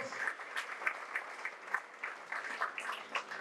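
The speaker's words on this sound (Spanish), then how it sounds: "Denle un aplauso al Señor" Fairly faint applause from a church congregation, loose and uneven, with scattered claps and a voice mixed in beneath.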